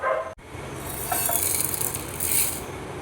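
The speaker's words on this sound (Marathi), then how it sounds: "तर धने आपल्याला अगदी हलकेसे भाजून घ्यायचे, खूप पटकन हे भाजून येतात" Coriander seeds dry roasting in a pan give a steady dry sizzle and rustle with faint scraping. A brief cut breaks it near the start, then the sound runs on evenly and fairly loud.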